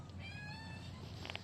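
A mother cat outdoors after a snowstorm gives a faint drawn-out meow, soft and distant with nobody speaking.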